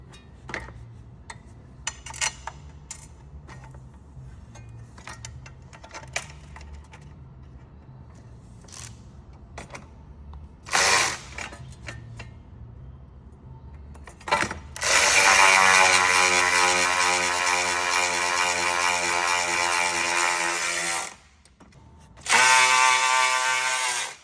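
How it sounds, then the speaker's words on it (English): A hand ratchet tightening a bolt on the radiator of a 2020-2023 Jeep Gladiator or Wrangler EcoDiesel, scattered clicks at first, then long loud runs of rapid pawl ratcheting, a short pause, and another burst. "Then we'll tighten up this bolt."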